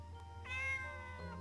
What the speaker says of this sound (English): Monette meowed happily and began tagging along at my heels